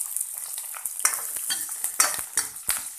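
Onions and dried chillies frying in a pan for rava upma, a crackling sizzle broken by sharp, repeated scrapes and stirring strokes from close by.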